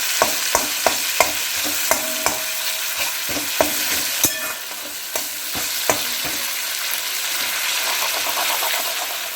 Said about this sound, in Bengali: নিম পাতাটা আমি ভাজা শুরু করেছি এবং ভাজছি